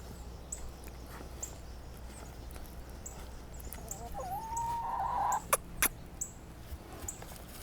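A chicken clucks faintly in an outdoor farmyard, with a few scattered soft clucks and one brief rising call midway, set against a quiet background with occasional small knocks.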